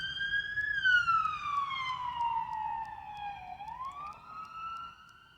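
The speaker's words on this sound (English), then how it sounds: "Excuse the sirens." A police siren wails steadily, its pitch sliding slowly down and then rising again, clear and fairly close, with no one speaking.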